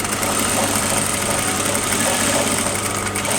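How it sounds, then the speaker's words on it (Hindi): Sewing machine running steadily while stitching a seam on a garment, a continuous mechanical motor hum with a fine rapid rattle, close and fairly loud, without pause and with no talking over it. "फिर यहाँ से मशीन चलाते हुए वापस हम इसके एंड पर पहुँच जाएंगे"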